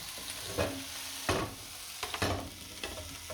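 Food being stirred in a frying pan, with a steady sizzle underneath and several distinct scraping strokes of the utensil across the pan, close and fairly quiet, no talking.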